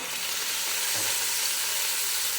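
Sausages fry in a pan with a continuous close, bright sizzle and a brief soft stir or flip partway through, with no voices.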